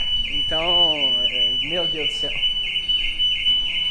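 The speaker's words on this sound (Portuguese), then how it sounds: "Nossa, que alarme chato, meu Deus do céu." A car alarm wails and warbles in a loud, cycling siren pattern with a steady high tone behind it, while a person speaks briefly over it.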